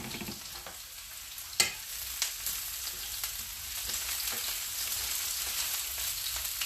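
Plenty of mushrooms frying in a pan for a veggie stir fry: a steady close sizzle, with a few clinks and scrapes of stirring near the start and no talking.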